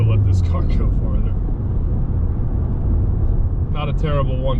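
A 2022 Subaru WRX accelerating hard through a 1-2 gear shift, steady loud engine drone from inside the cabin with brief voices talking over it at the start and end.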